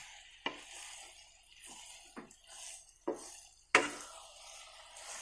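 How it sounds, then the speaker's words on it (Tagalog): Spoon scraping and clinking against a pan while stirring biko tapol, a sticky rice cake, until the oil separates; a few sharp metallic knocks stand out over a soft, steady scraping, with no talk. "Mix lang tayo hanggang sa lumabas yung kanyang langis."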